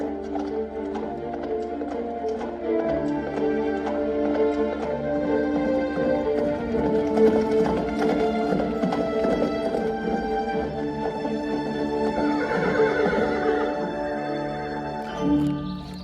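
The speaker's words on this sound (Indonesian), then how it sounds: "mereka pun segera pergi berkuda menuju ke hutan belantara yang letaknya jauh dari istana" Horses ridden toward a forest, with rhythmic hoofbeats clip-clopping over a steady musical backdrop and a brief whinny near the end, moderately loud throughout.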